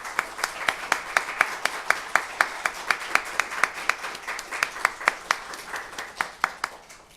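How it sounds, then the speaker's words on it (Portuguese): An audience claps steadily to welcome a speaker at a lecture on marriage, sharp hand claps in a brisk, fairly even rhythm from a modest crowd, with no talking over them. "recebam com uma salva de palmas"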